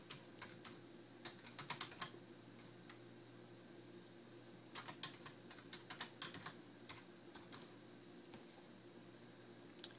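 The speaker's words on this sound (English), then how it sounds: "so we'll type that in" A computer keyboard is typed on in two short, quiet bursts of light clicking separated by a pause, over a faint steady background hum.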